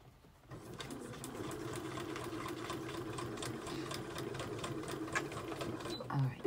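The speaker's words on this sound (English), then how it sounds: "I'm just gonna put a little stitch down through there on my machine real quick." A sewing machine stitches a box journal in one steady, fast whirring run of rapid needle strokes, close and continuous for several seconds.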